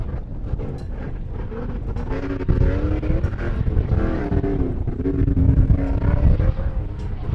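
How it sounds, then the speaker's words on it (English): An off-road race car engine roars steadily up close for several seconds, loud and rough with a slight swell partway through, and no voices over it. "You hear the engine popping coming around."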